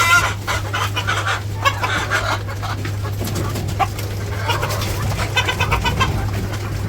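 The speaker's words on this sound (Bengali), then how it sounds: "এই মুরগিটা মনে হয় ডিম পারবো, জায়গা বিস্তারতেছে আর কি বসার জন্য" Hens cluck and mutter inside a village chicken coop on a sunny morning as one restless hen hunts for a spot to lay, with close, irregular clucks and calls over a faint steady hum.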